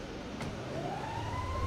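Police car siren in Grand Theft Auto V, a steady rising wail close by during a city chase, with a continuous low engine rumble beneath and a brief click partway through.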